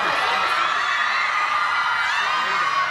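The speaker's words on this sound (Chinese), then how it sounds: "吸引了粉丝大声的尖叫。" About 300 fans at an airport scream and shriek together in a dense, continuous high-pitched roar, loud and sustained throughout.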